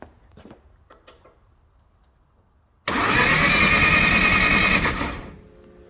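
A Datsun 1200 fitted with a 12A turbo rotary engine cranks and catches after some quiet handling noises, breaking into a loud, steady rough run for a couple of seconds before easing down.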